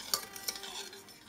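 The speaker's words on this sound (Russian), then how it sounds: "Высыпаем сахар и перемешиваем до полного растворения." A spoon scrapes and clinks around a saucepan while sugar is stirred into milk, a few brief knocks over a faint hiss, close up and quiet.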